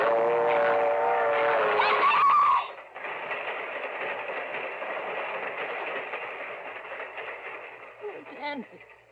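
A radio drama train effect: a loud rumbling, clattering rush with a shrill whistle-like tone, then a steadier rolling roar that slowly fades, with a voice cutting in near the end.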